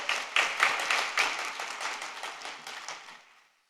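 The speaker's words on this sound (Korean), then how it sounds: "다시 한번 살아계신 하나님께 영광의 찬양 박수 올려드립니다" A church congregation at a prayer retreat claps in praise, a dense burst of many hands that starts strong and fades out over a few seconds, no voices over it.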